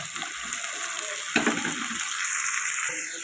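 Raw banana pieces dropped into a pan with onion paste, a bright steady frying sizzle with a sharp splash of hissing at the drop and light stirring after.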